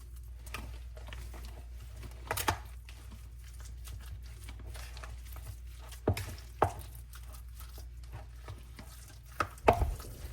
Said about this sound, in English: Now I'm just gonna mix this all together.